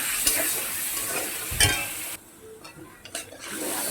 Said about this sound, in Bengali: সেদ্ধ হওয়ার জন্য, জল দিয়ে দিলাম।